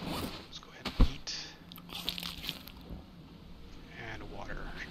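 A character eating food in the survival video game Stranded Deep, with one loud crunchy bite near the start followed by softer chewing and rustling, mixed with faint game ambience.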